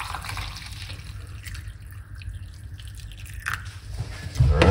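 Parsley tea poured out into a cup, a soft continuous liquid trickle that runs steadily for several seconds and grows slightly louder and fuller near the end, with no talking.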